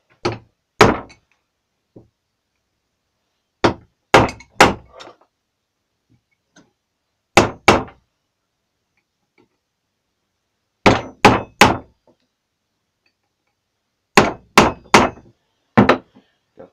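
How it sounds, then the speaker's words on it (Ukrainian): Hammer strikes on a center punch marking four drill holes in a homemade wood-lathe faceplate, sharp metallic taps in quick clusters of two or three, separated by silent pauses. "Але перед тим як сверлити, треба їх накернити."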